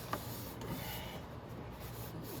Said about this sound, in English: So I'm gonna put my rag in there and let's wipe that all up.